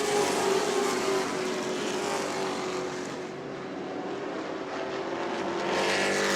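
Race cars roar around New Smyrna Speedway in a weekly short-track event, a loud continuous engine drone with a steady high pitch that swells and fades slightly as cars pass, no talking.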